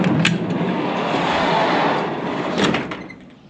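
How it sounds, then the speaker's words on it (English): A large door, probably a sliding one, being opened during a snowstorm, a broad rolling rumble and scrape lasting a few seconds with a couple of sharp knocks, loud and close. "Let's open up this door here so we can get some light in."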